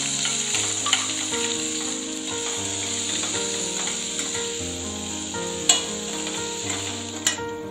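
Small onions sizzle and fry steadily in a pan for a Chidambaram-style brinjal gothsu, a continuous close crackle with a few sharp ticks as they are stirred.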